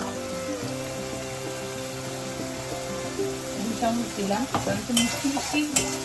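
Cashews and raisins stirred into a spice paste in a pan, a soft sizzle with scraping stir strokes that grow louder and busier toward the end, while a voice talks steadily over it.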